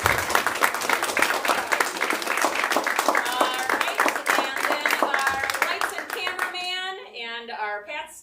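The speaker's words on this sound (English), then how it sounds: "So, round of applause for these." Audience applause at a school play, brisk clapping from a small crowd that fades toward the end as a voice begins speaking over the tail.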